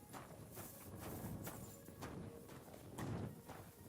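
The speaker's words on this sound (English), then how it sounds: "there's a horse that we can" Faint, rhythmic clip-clop of horse hooves in the video game Kingdom Come: Deliverance II, with steady, evenly spaced footfalls at walking pace and no talk over them.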